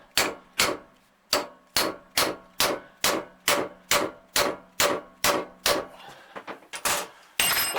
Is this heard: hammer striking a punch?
yes